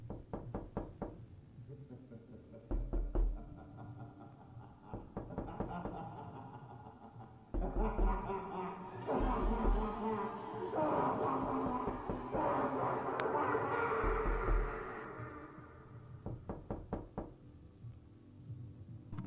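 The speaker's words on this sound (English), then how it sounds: "followed by the sound of hard knocking and the Joker's manic laughter" Hard, heavy knocks land in irregular clusters within a Batman analog horror piece, thudding against a dark droning backdrop with muffled voice-like sounds.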